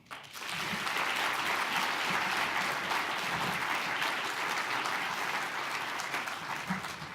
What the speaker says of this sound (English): I would ask that everybody please give a round of applause for the foundation